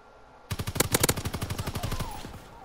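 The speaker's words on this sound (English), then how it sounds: "Billy, you had to get on the fucking MG." Machine gun fire in a World War II video game, a single rapid burst of about fifteen sharp, loud shots at a steady rhythm, trailing into a short echo with no voices.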